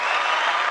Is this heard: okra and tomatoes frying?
no